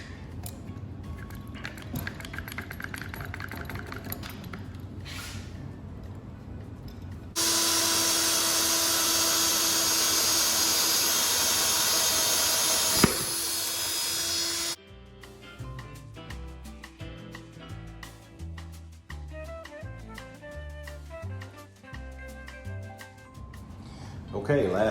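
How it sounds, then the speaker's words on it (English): A 5/8-inch drill bores through a red cedar plank along a 1/4-inch pilot hole in a garage workshop, a steady loud grinding whir for several seconds, set between quieter stretches of other workshop noise. "We're going to take a 5/8" drill all the way through."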